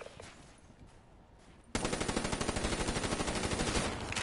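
Automatic gunfire in the video game Black Ops 3: after a quiet stretch, a rapid, sustained burst of loud, evenly spaced shots rattles on for over two seconds.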